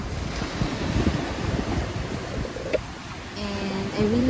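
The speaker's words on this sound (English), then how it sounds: "as you can see, the waves are really nice" Ocean waves wash and break along a shore in a continuous, moderately loud surge, with wind across the microphone and a faint tonal sound near the end.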